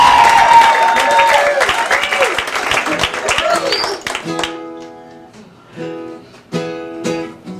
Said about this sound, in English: how about another round of applause real quick?